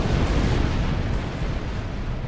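A missile detonates in a space combat video game, a deep rumbling blast that rolls out loudly and fades slowly across a couple of seconds.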